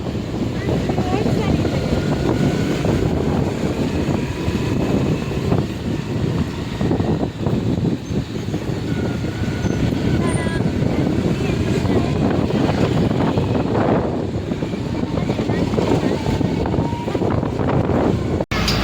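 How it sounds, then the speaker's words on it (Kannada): A moving bus gives a steady, loud interior rumble with road and wind noise throughout, while people talk over it. "ಫೈನಲಿ ನಾವು ಬಸ್ಸಲ್ಲಿ ಕೂತ್ವಿ."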